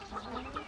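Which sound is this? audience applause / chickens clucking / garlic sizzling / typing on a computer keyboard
chickens clucking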